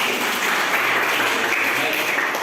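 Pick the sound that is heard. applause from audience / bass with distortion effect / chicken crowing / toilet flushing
applause from audience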